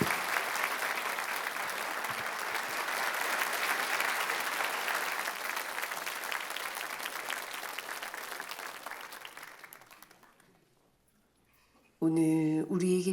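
A church congregation at a Sunday worship service applauds to bless a deaconess: steady, full applause from a large crowd, sustained for several seconds before fading out, followed by a voice starting to speak.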